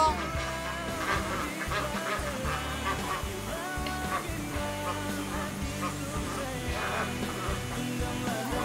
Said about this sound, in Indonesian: Suara bebek.